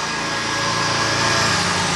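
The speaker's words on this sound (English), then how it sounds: "the motor turning." A CNC engraving machine with a wood table runs its motor, giving a steady high whine over a constant mechanical hum, close and unbroken for the whole stretch.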